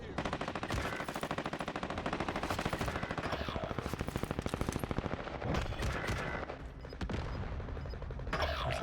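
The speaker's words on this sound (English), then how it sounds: "Under heavy fire here." Heavy automatic gunfire in the Warzone video game, a loud sustained rapid stream of shots with bursts continuing almost the whole time and brief pauses near the end.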